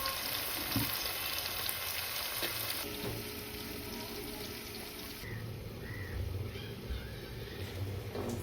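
Tomatoes and green chillies fry with onions in a pan for fish curry, giving a quiet, steady sizzle throughout with no talking.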